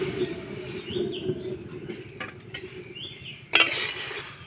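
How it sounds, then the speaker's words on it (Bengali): Puffed rice (khoi) is stirred and dry-roasted in a kadai, a soft rustling scrape of grains against the metal with one sharper clink near the end, close and moderately quiet. "কড়াইয়ের মধ্যে দিয়ে শুকনো খোলায় নাড়াচাড়া করে একটু ভেজে নেব।"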